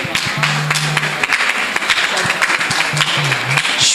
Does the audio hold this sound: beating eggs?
no